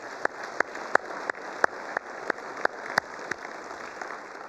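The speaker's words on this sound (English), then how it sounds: "Let's give him a round of applause." Sparse, sharp hand claps at the San Jacinto College 2023 State of the College event, about a dozen distinct claps spaced irregularly and fairly quiet, as if from only a few people in the room.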